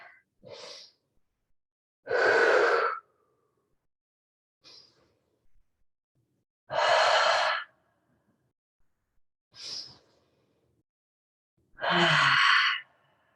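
Slow, deep yoga breaths, three long airy exhales spaced evenly apart, each preceded by a shorter, softer inhale, close and clear in otherwise quiet surroundings.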